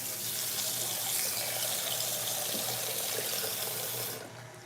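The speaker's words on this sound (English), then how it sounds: "I am now going to add about 3 cups of water to the cocoa." Water poured steadily into hot cocoa for a St Lucian cocoa tea, a continuous close splashing gush lasting several seconds before tapering off near the end, with no talking.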